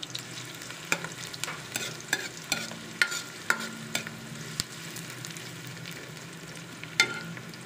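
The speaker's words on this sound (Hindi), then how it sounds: "हम प्याज को जो है वो अच्छी तरह फ्राई करेंगे" Onions frying in a pan as a spoon stirs them, with a steady low sizzle broken by regular scraping strokes about once a second, moderately quiet and without voices.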